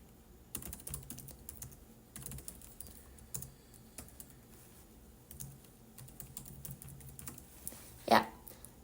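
Fingers type on a computer keyboard while entering a guest's city and address into a new hotel profile in OPERA Cloud software. Quick irregular bursts of close key clicks are separated by short pauses, with one louder clack near the end.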